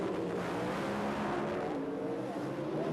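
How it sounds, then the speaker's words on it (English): Two Pro Stock drag racing cars at the 1982 NHRA Gatornationals launch side by side with a loud, sustained engine roar that holds steady and dense throughout, the pitch climbing slightly as they pull away. "Both cars leaving side by side."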